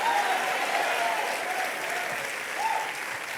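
A church congregation applauds in a sustained, dense wash of clapping that fills the room evenly, with faint voices under it.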